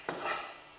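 Vegan soy-free meatball mixture with a little olive oil being stirred in a bowl, a short scraping, sloshing burst of under a second, close and fairly soft, with no voices.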